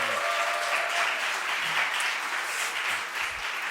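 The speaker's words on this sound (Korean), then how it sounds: "네, 다시 한번 우리 박수해 주시겠습니다." A church congregation applauds, a dense, sustained clapping from many hands that fills the room evenly for several seconds without letting up.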